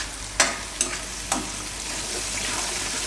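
Chickpea and fenugreek gravy cooking in a pan, a steady sizzle and bubble with three sharp stirring scrapes near the start, close and moderately loud with no talking.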